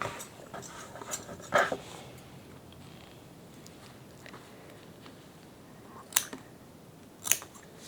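Scissors cut through quilt fabric in a quiet room, with soft snipping and sliding that include several crisp, distinct cuts standing out at intervals, close and clear with no talking.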